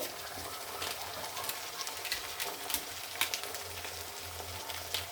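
Cumin and coriander powder with green chillies fry in oil in a pan for a rohu curry, a steady close sizzle with crackling pops throughout and no talking.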